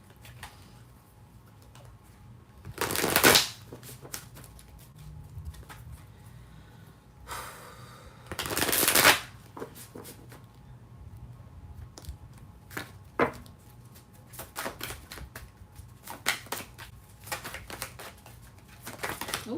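Two loud bursts of riffling tarot cards, each lasting about a second, followed by scattered light taps and flicks in a quiet room.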